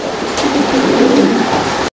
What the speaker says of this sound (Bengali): দর্শক বন্ধুরা আমরা এই মুহূর্তে দেখতে পাচ্ছি এখানে চমৎকার আরও এক জোড়া কবুতর আছে